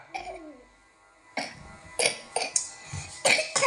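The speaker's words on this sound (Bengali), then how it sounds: "ইসিরে কাশি হচ্ছে।" A young boy coughs in a few short, sharp bursts close by, with a brief bit of a voice at the start and quiet pauses between the coughs.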